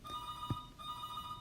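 A phone rings faintly in the background of a trigonometry lesson, a steady electronic tone with a brief thump partway through.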